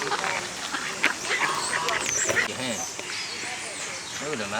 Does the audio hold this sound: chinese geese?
yes